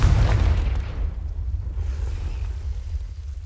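A Confringo spell explodes in Hogwarts Legacy with a loud, deep boom at the start that rumbles and slowly fades over a few seconds.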